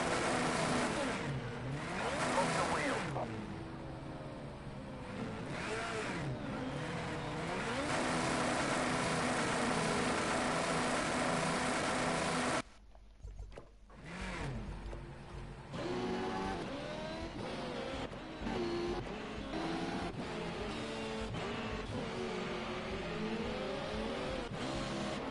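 Race cars lapping Snetterton circuit in a Formula X round, engines loud and continuous as they accelerate down a short straight, with a brief dip in sound midway before revving resumes.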